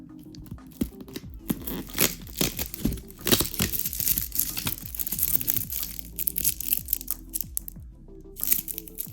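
Package being unboxed by hand, with repeated crinkling, tearing and crunching of packaging up close, in irregular bursts with brief pauses and no speech.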